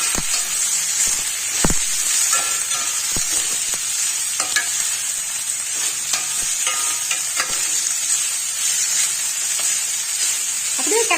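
Shredded cabbage sautés in a pan with a continuous close sizzle, broken by occasional sharp clinks and scrapes of a stirring utensil, and no one speaking.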